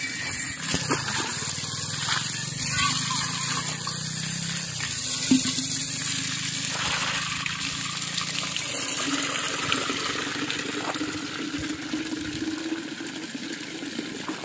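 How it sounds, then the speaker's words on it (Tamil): Water runs steadily from an outdoor pipe tap for a long stretch, a continuous close rush and splash with no talking over it. "தண்ணி பைப்பு இருக்குது, தண்ணி பிடிக்கலாமா?"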